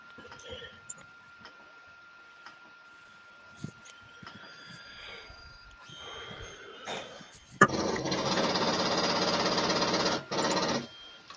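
An FDM 3D printer runs with soft ticking and whirring at first, then breaks into a loud, dense mechanical buzzing rattle for several seconds, with a brief dip near the end.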